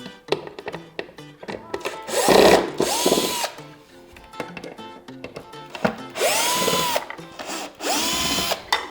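A power drill whirs in several bursts, spinning up and winding down with rising and falling pitch, as screws are backed out from under a chair seat, with quiet rattling between runs.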